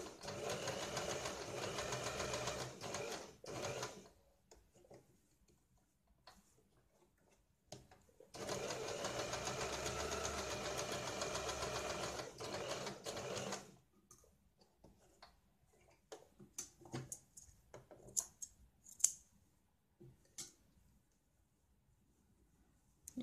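A sewing machine stitches tucks on a blouse in two bursts of rapid ticking hum separated by quiet gaps, followed by scattered clicks and fabric handling.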